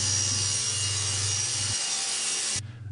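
A Powermatic PM2000 table saw cuts thick red oak board, probably around an inch and a half thick, with a loud steady whine and a low hum that change near the end as the cut finishes. No one speaks.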